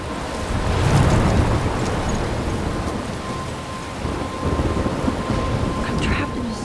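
Thunderstorm in the video game Life is Strange: heavy rain roars steadily while deep thunder rumbles and swells loudly, with a voice speaking partway through.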